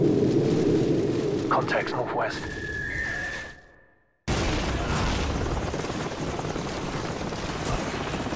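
A helicopter approaches in the Call of Duty 4 video game: a loud, broad rotor-and-engine roar with a whooshing swell and a steady tone, then a sudden drop to near silence before the heavy roar resumes.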